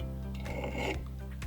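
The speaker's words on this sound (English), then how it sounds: "And then I'm going to file the edges of that." Metal edges of a handmade jewellery necklace piece being filed with a needle file, a steady close rasping scrape with a few strokes under a constant low hum.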